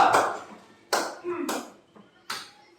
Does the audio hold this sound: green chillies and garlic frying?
no